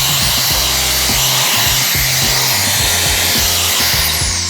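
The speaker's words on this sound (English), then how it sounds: "It has more of like a high pitch whizzing" A Shark FlexStyle hair dryer blows steadily and loudly close by, a high-pitched whizzing airflow with a pulsing low motor hum beneath it, continuous throughout.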